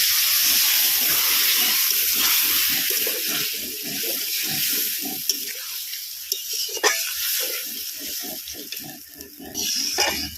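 Water poured into a pan of pointed gourd curry and stirred in, a steady watery pour and wet stirring with clatter and a brief louder splash near the end.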